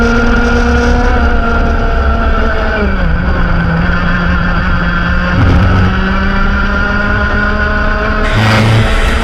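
Racing kart engines in a KA3 Junior Heavy race at Ipswich scream loudly and continuously, with several karts passing close by as their pitch rises and falls.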